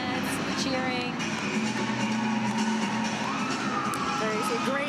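A crowd cheering and shouting steadily at a college gymnastics meet between NC State and Pittsburgh during a floor routine, a continuous dense roar with whoops, heard under close talk.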